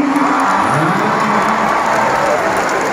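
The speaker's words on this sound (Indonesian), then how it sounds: "Tepuk tangan sekali lagi." A concert audience at a band's show in the Edutorium hall applauds and cheers, a dense, steady wash of crowd noise filling the space without a break.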